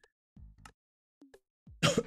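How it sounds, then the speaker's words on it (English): A short burst of coughing near the end, loud and close, after a few faint throat sounds and a brief vocal noise in an otherwise quiet room during a gaming stream. "Sorry for the cough."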